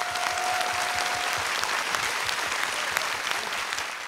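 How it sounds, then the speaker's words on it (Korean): Audience applause at a televised talk concert, a dense, steady wash of clapping from a large crowd filling the whole stretch at a loud, even level. "네, 박수로 함께 하시죠"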